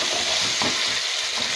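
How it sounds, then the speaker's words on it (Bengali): Chicken curry meat sautéing in a pan with its oil separated out, giving a loud, continuous close sizzle with soft stirring scrapes and no voices. "মাংসটা আমার খুব ভালোভাবে কষানো হয়ে গেছে, মাংস থেকে ভালোভাবে তেল চলে গেছে"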